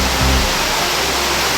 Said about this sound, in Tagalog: Yan yung sprinkler nila.